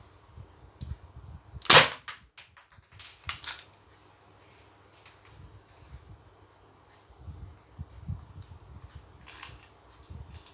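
A Thompson submachine gun fires during an accuracy test at a target: one loud, sharp shot near the start stands out, with a weaker report later, over low rumbling background noise and no talk.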